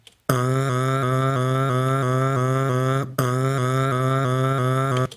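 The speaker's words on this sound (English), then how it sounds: "So we can do siren effects and things like that if we want to with our voices." A held voiced tone repeatedly glides up and snaps back down in a fast, siren-like wobble, briefly cutting out once before continuing.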